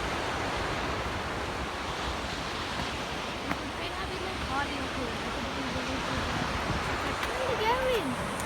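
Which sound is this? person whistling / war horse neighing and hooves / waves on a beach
waves on a beach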